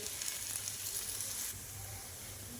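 Oil sizzling around a thalipeeth flatbread frying in a pan, a soft, steady hiss that drops slightly partway through, with no talking.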